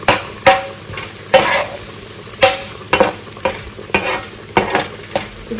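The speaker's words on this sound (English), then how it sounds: "Prawn to the pot." Shrimp sizzling as it fries in a pot for shrimp Alfredo pasta, with repeated loud stirring scrapes and clatters over a steady frying hiss, close by and with no talk.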